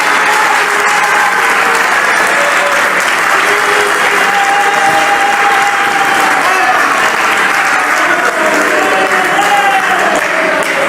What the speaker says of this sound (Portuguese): Aplaudam o Senhor Jesus Cristo.